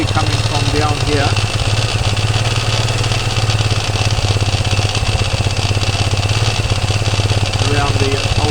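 A Honda FTR 230 motorcycle engine fitted in a CTX200 frame idles steadily at close range, with a continuous low rumble and faint rattly mechanical ticking throughout; voices talk intermittently over it.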